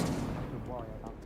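A fire spell cast in Hogwarts Legacy lands as a booming burst with a crackling whoosh, mixed with game effects in a short, dense rush.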